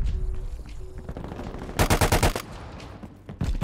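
A C58 assault rifle fires in Call of Duty Cold War, a loud rapid burst of about a dozen rounds in the middle, then a brief shot near the end, over low game ambience.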